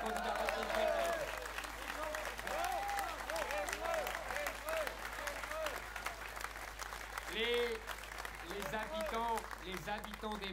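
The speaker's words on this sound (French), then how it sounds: "je vous demande d'applaudir Jean Messia, qui sera notre candidat reconquête." Sustained audience applause and cheering at a political rally, a dense crowd of clapping that continues throughout, with shouts and voices rising over it.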